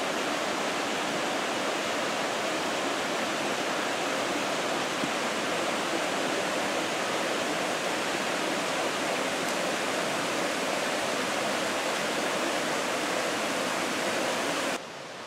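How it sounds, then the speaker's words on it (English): Steady, dense rush of a fast-flowing river at Qal-e Rudkhan in Gilan Province, Iran. It is continuous and even throughout, with no voices. "Love the sound of the water."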